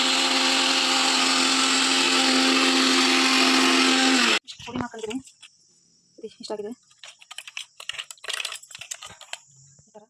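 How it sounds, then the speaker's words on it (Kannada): A kitchen mixer grinder grinds chana dal, dry red chillies and curry leaves in a jar, a loud steady whine for about four seconds that cuts off abruptly, followed by clattering and quieter handling noises. "ಕಡಲೆಬೇಳೆ ಬೇಳೆ ಒಣಮೆಣ್ಸಿಕಾಯಿ ಕರ್ಬೇವಿನ ಸೊಪ್ಪು ಜಾರಿಗೆ ಹಾಕೋತಾ ಇದ್ದೀನಿ ಜಾರಿಗೆ ಹಾಕಿ ರುಬ್ಬಿ"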